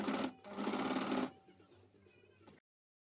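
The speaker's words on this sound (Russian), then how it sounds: "Саму ткань основную не трогаем, не натягиваем, натягиваем только бейку." A sewing machine stitching bias binding onto a garment neckline, running in two close steady bursts and then slowing to a quieter whir before stopping.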